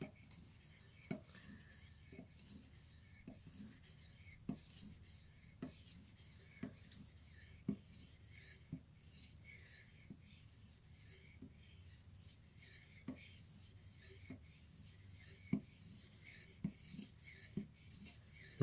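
A knife edge is polished to a mirror finish by the scary sharp method, giving soft repeated rasping strokes at a steady rhythm, each with a faint click, quiet and close with no voices.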